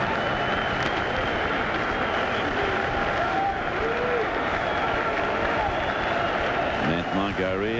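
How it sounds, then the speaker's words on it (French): Packed Montreal Expos stadium crowd roaring and chanting Gary's name in a dense, continuous wall of sound, with a voice talking over it near the end. "Et la foule qui scande. Gary."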